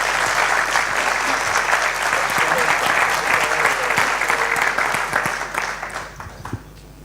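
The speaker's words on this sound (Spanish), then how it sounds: "Un aplauso." An audience at a civic forum in A Coruña applauds as a speaker is welcomed, the clapping thick and even, then tapering off in the final second.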